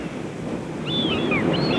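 Cold winter waves wash against a rocky jetty with a steady roar and wind buffeting the microphone, and faint high bird-like calls break in during the second half.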